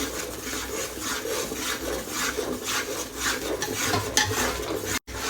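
Besan gram flour being stirred in a pan of ghee for ladoo gives a steady, rhythmic scraping and rubbing that is close and fairly loud, with one brief drop near the end and no voices.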